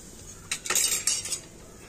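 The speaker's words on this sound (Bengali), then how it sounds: "বেশি না 2 চামচের মতো আমি গুঁড়ো চিনি দিয়ে দিলাম" A spoon clinks against a bowl a few times while about two spoonfuls of powdered sugar go into ripe jackfruit paste, producing short bright metallic taps close by in a quiet kitchen.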